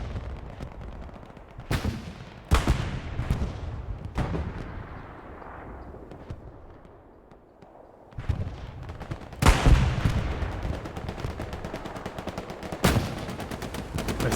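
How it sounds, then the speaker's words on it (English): Heavy artillery blasts and gunfire from a multiplayer war game match: loud booming impacts arrive in separate bursts, with rumbling gaps between them and rattling shots among the explosions. "Oh, artillery hitting it."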